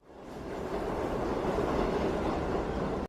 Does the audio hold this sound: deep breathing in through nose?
no